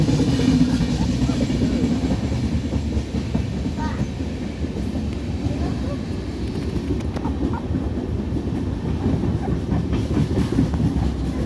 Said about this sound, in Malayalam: ഹായ് ട്രെയിൻ പോകുന്നതാണ്